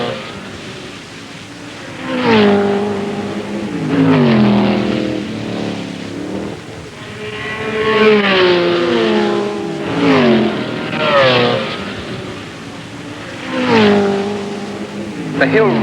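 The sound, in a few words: race cars including Chaparral and Ferraris racing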